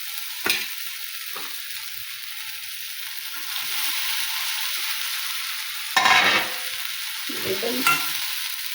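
Okra and tomatoes frying in a pan while a spatula stirs them, a constant soft sizzle broken by several distinct scraping strokes, the heaviest near the end, close up and without speech.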